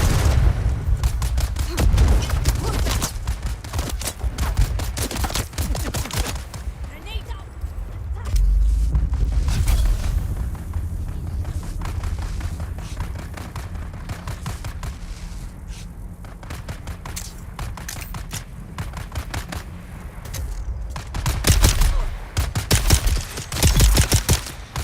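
Grenade blasts and rapid gunfire from a firefight in the video game Dune Awakening, dense bursts of shots and booms running almost throughout, loud and close, with a heavier surge near the end.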